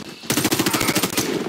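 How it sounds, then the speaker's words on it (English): Rapid automatic gunfire from the Warface online shooter game in a PvP match, a dense burst of shots starting abruptly after a brief quiet moment and rattling on steadily and loud to the end. "It did register that I shot, but only a little."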